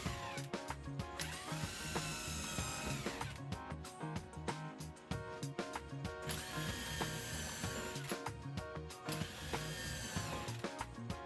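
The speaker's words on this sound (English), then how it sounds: "Here I'm going to put my first screw in" A screw is power-driven into a wooden spacer block for a table saw auxiliary rip fence, producing a loud, close, sustained drill whine with a ratcheting, gear-like buzz, broken by brief pauses.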